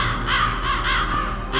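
Several crows caw in the 1998 video game Metal Gear Solid, a steady run of harsh, raspy calls over a low droning background, with no voice in the clip.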